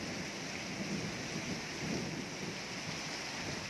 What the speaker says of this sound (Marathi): धाराशिवमध्ये अवकाळी पाऊस झालेला आहे